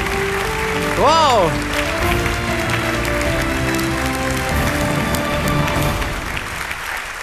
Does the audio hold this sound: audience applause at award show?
yes